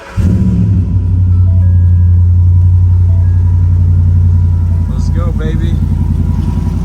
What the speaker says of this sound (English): We got one final cold start.